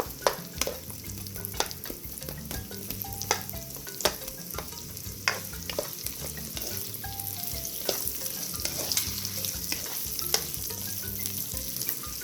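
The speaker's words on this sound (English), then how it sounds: "So onions, about another couple of minutes, just get it a bit softened." Chopped onions softening in a hot pan, stirred steadily, give a continuous close sizzle broken by regular scraping and clacking stirs, with no talking.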